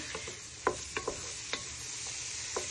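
Spoon scraping and knocking through pork stew in a pot, several soft separate clinks and stirs over a faint steady simmering hiss, close and fairly quiet.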